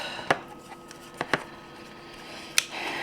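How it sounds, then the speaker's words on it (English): A knife chops food for deviled eggs on a cutting board, four or five sharp, separate taps spread unevenly over quiet room tone. "And we'll chop that up."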